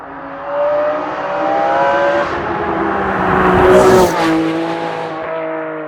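A Ferrari 599 GTB Fiorano's V12 engine pulls hard while driving, its loud close roar climbing in pitch. The roar peaks with a sharp shift near the end and then settles into a steadier drone.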